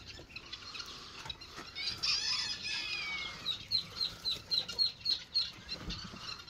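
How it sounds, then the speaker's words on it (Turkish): A rooster on a farm with ducks and chickens clucks in a quick run of short, evenly spaced calls, faint and close by, after a few seconds of softer fowl sounds and light rustling. "burada bir horozumuz var."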